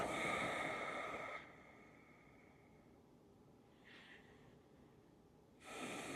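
Deep breathing during a guided yoga session: a long audible exhale, a quiet pause with a faint breath, then another strong breath, close and without talking.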